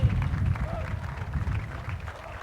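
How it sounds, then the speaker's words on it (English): Spectators at the 2012 Armed Forces Day parade in Torrance clap and cheer, and the applause sounds fairly distant and diffuse over low rumbling street noise. "Great big round of applause for these folks."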